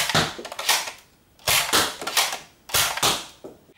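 A Nerf ZombieStrike Crossfire Bow toy fires three times. Each shot is a sharp mechanical snap followed by a rattling release, spaced about a second apart and heard close up.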